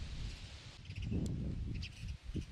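Sparrows chirp at a hilltop temple near Pune: a few faint, thin calls come and go over steady, blustery wind noise, with no talking.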